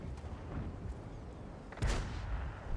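Tank gun firing in World of Tanks, one sharp heavy boom about two-thirds through, standing out over a steady rumbling battle background, no talk.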